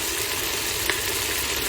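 Spices and vegetables fry in a pan, producing a constant dense sizzle up close with a single small tick or stir sound near the middle and no talking.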